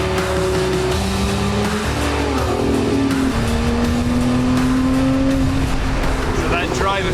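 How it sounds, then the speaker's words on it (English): A Lotus Emira sports car engine roars steadily as the car drives, its tone rising and falling with the revs throughout, while a voice talks over it. "This engine just roars."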